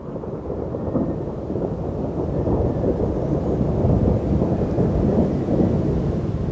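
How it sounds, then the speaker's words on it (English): Deep, sustained thunder rolls and rumbles continuously from an approaching storm, building slightly in loudness with a rain-like wash and no voices. "I could hear the thunder coming."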